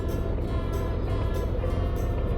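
Motorcycle riding on a road on a scorching midsummer day, with a steady, continuous engine and wind rumble throughout and no talking.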